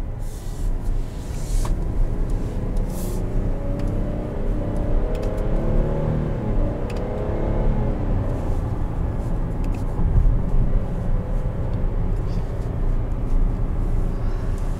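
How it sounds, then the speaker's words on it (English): Steady engine and drivetrain drone from inside a 2021 Buick Enclave Avenir on a drive, rising and falling slightly as the transmission shifts down through close-ratio gears, constant road rumble throughout with no talking. "If I'm in sixth, I can just downshift and it will actually downshift."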